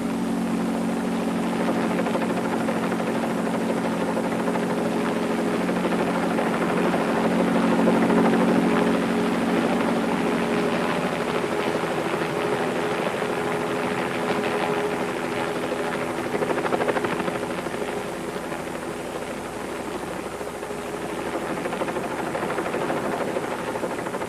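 A helicopter hovers steadily over a car-jump stunt site on the Colorado River, its engine and rotor producing a continuous loud droning whine that holds for the full stretch with a slight swell in the middle.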